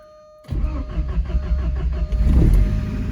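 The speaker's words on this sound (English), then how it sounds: "Oh boy, the Porsche started." An old Porsche engine cranks and catches after a brief silence, then settles into a throaty, lumpy idle that swells slightly as it revs, close and loud in a shop.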